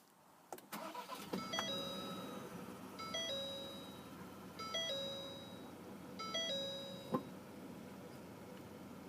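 A 2019 Ford Ranger Lariat with a 2.3-liter EcoBoost four-cylinder starts by push button: a sharp crank and catch, then a steady idle with a chime sounding repeatedly at regular intervals over it.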